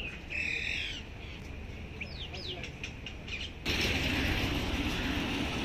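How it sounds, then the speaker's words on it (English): Bird calls sound outdoors in the morning in Aerocity, Delhi, near hotels, with a few short chirps and sweeping whistles over a steady ambient rush that grows louder partway through. "Look at that bird here."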